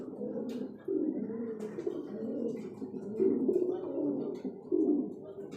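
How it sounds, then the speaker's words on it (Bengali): Pigeons at a pigeon farm coo in soft, low, repeated throaty rolls that overlap one another. The cooing is steady and close, with no one talking. "আসেন এক এক করে আমরা কবুতর দেখি"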